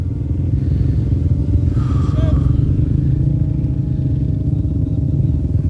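Rally motorcycles idle and rumble together at the start of a Dakar Rally stage, a steady loud engine drone with clattering mechanical noise throughout, people talking nearby.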